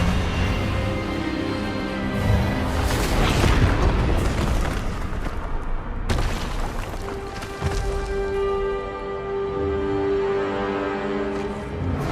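Spell blasts from an Expelliarmus wand duel in Hogwarts Legacy on PS5: loud booming magical bursts with a sharp cut midway, followed by a rising tonal whoosh and a ringing hum that sustains to the end.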